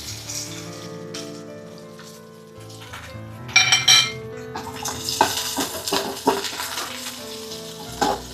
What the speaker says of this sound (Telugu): పచ్చివాసన పోయే వరకు కలుపుకుంటూ లో ఫ్లేమ్లోనే వేయించుకోవాలి.